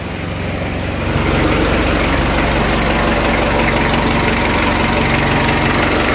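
A Ford Everest engine with an oil leak idles steadily, loud and close, with a constant rumbling drone and faint rattling vibration that starts up and holds for several seconds.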